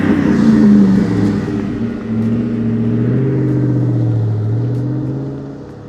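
A 1999 Ford Mustang SVT Cobra passes outside with its engine revving, a loud, close, throaty drone that rises and settles across the pass with no talking.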